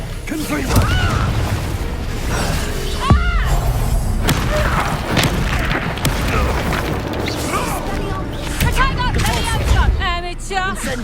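Confringo fire-spell blasts in the Hogwarts Legacy video game, set during a dragon fight: repeated booming thuds and crashes over a dense, busy game soundtrack, with voices speaking at points.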